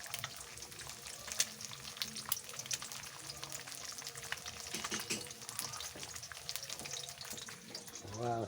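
Eggs sizzling and crackling in a pan, a continuous frying hiss with scattered pops and a soft clatter near the end.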